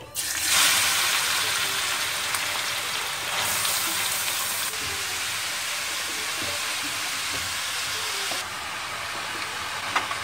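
Carrots fry in hot ghee in a kadhai, giving a steady, hissing sizzle that swells as they go in and then settles into a constant crackle with no talking.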